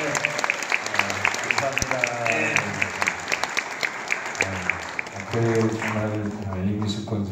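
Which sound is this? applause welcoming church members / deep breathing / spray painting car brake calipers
applause welcoming church members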